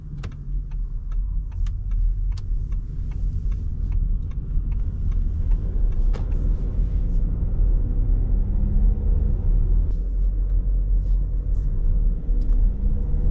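Inside an Audi Q5 Sportback TDI quattro on a night drive, a steady low engine and road rumble continues throughout, with faint ticking clicks scattered over it.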